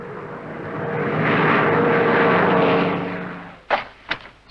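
A Douglas A-26 Invader flies past with a broad roaring engine drone that swells and then fades, followed by a few sharp thumps near the end.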